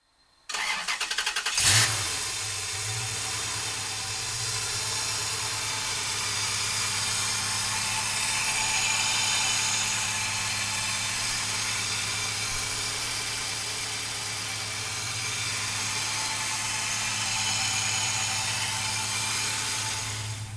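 A 1968 Chevrolet Camaro with an LS7 engine cranks briefly and fires up, then settles into a loud, steady, rumbling idle that holds with slight swells for about twenty seconds, close by with no talk.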